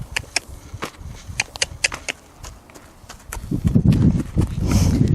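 A horse on its first day of lariat work walks off, its hoofbeats sounding as distinct, fairly close clip-clops that are spaced early and then turn into heavier, denser thudding and shuffling near the end.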